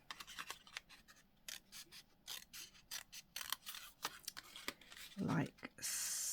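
Scissors snip through material for a craft frame, a rapid series of close, crisp cuts with small clicks and rustles, quiet and with no talk.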